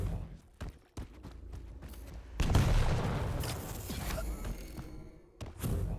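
Rapid turret gunfire in a competitive video game match, a dense continuous burst of shots and impacts in the middle, preceded and followed by scattered thuds.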